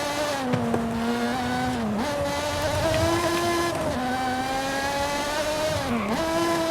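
A Lotus Exige Cup 430 in Forza Horizon 5 brakes into a corner, its loud, close engine note dropping in pitch twice as it slows and then holding steady between the dips.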